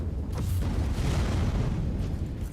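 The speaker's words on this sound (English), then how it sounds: "Or a miniature explosion." A small spell explosion in the Warhammer 40k game Inquisitor Martyr releases a dense, sustained rumbling blast that fills the whole moment, loud and close with no other sounds.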